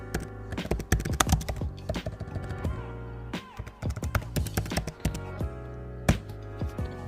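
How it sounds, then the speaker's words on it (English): Rapid typing on a computer keyboard, dense clusters of close crisp key taps in uneven bursts with brief pauses, over a faint background hum. "so you will type Spotify followers, buy real Spotify followers."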